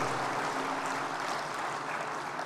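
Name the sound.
audience applause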